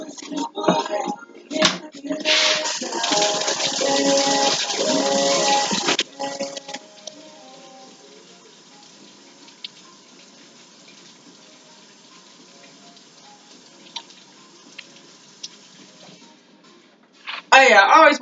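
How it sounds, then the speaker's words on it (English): A kitchen tap runs steadily over vegetables in a sink for several seconds, then cuts off, leaving quiet background with faint clatter before a brief burst of water returns at the end; a person talks nearby. "I always wash them damn vegetables in water, period."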